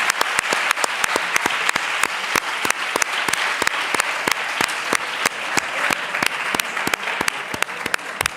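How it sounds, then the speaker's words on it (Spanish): A poetry festival audience in Granada claps steadily and densely for the whole stretch, many hands beating in a fast, even patter that neither builds nor fades. "Un aplauso para cada..."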